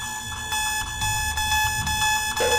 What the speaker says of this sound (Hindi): अलार्म तो चालू हो गया।